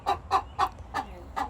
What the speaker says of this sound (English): Farmer Kayla has 80 chickens.